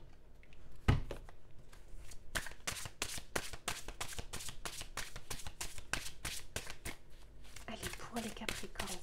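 Tarot cards are shuffled in a rapid run of crisp, closely spaced flicks and riffles, steady throughout with a light rustle near the end.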